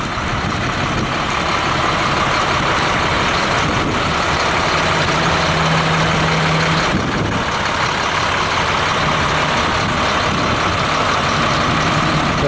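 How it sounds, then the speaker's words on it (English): A 2006 Freightliner Business Class M2 tank truck with a Caterpillar C7 250 horsepower engine idling, a loud, close, steady diesel rumble that stays constant throughout with no talking. "The 2006 Freightliner M2 has a Caterpillar C7 at 250 horsepower"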